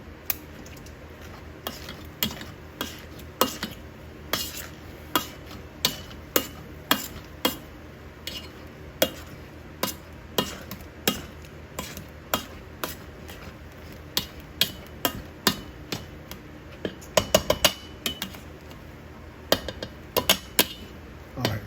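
Potatoes being mashed in a pot for a Southern home-cooking meal, a steady series of soft, thudding presses and scrapes with sharper clanks against the pot, repeating roughly every half second, close up with no talking.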